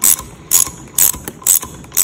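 A ratchet cranks a valve spring compressor while fitting valve springs to Vortec cylinder heads, giving four quick bursts of close, crisp clicking in a steady rhythm with short pauses between, with no talk.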